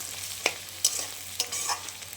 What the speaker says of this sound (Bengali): একটু ভাজা হোক, তারপর আবার আমি বেগুন, শিম টিম দিয়ে দেবো